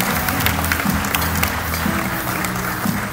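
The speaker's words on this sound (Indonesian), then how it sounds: "Tepuk tangan buat Pak Ciputra dengan Ibu Dian Ciputra." Sustained audience applause at a Founders Day celebration honoring Pak Ciputra's birthday, dense steady clapping from a large crowd filling the room, continuous and fairly loud throughout.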